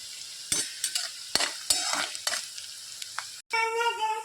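Onion and mustard seeds sizzle in a pan of upma while a spoon stirs them, with sharp scraping strokes over a steady frying hiss.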